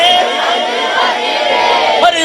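A crowd at a milad religious gathering chants slogans in praise of the Prophet, many voices loud and sustained together with a rising cheer near the end.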